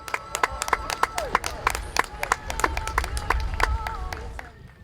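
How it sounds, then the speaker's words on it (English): Applause for the marchers at an outdoor grand parade and muster, a burst of scattered hand claps with faint crowd noise, fairly close. "Thank you for a round of applause for everybody in the parade."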